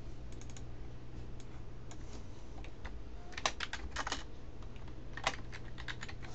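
Typing on a computer keyboard while entering title block information in AutoCAD Architecture: scattered clusters of key clicks, fairly close, over a steady low hum, with no talking.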